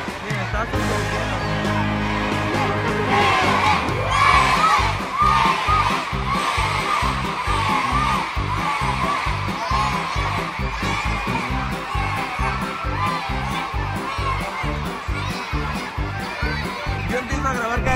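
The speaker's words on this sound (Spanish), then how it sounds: "Acaban de prender un escenario. Y la gente aquí ya se volvió loca." A concert crowd screams and whoops excitedly as a stage lights up, the cheering running on over a steady pounding beat, with a person talking nearby.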